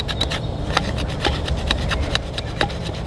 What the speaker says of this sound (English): I bet we can scrape it though with the edges like that